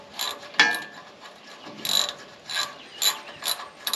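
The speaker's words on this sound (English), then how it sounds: "Get my ratchet and get this bolt out." A hand ratchet works a bolt loose on an old generator, several bursts of quick metallic clicking, close and moderately loud, with short pauses between strokes.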